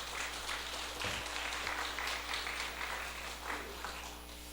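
A church congregation at a Sunday morning service claps together in a steady, even wash of applause, moderately distant in a reverberant hall.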